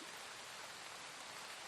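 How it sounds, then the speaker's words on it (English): Steady, even broadband wash of forest nature sounds with a rain- or stream-like hiss, continuous and moderately loud with no distinct events and no voices. "So we have this forest, which sounds like this."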